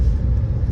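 A steady low rumble of tires rolling on pavement, heard from inside a moving VinFast Limo Green electric car, brief and continuous.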